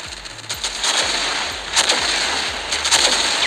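Rapid, evenly spaced gunfire from an automatic weapon in the mobile first-person shooter ShadowGun War Games, a close, continuous string of sharp shots with no talking.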